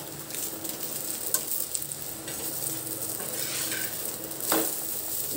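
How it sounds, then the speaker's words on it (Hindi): A paneer paratha fries in desi ghee on a pan over medium flame, a steady soft sizzle with light scraping and a couple of sharp clinks of a utensil, heard close with no talking. "देसी घी में पराठे बहुत अच्छे बनते हैं फ्रेंड, बिल्कुल सॉफ्ट हो रहे हैं एकदम।"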